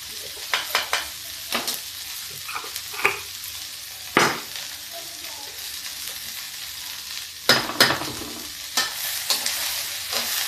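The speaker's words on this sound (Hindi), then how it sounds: "इसलिए हम थोड़ा सा इसको और फ्राई कर लेते हैं।" Green chillies stirred and fried with turmeric in a pan for pickle, a steady low sizzle broken by sharp scraping strokes of the spoon at irregular intervals, close and alone.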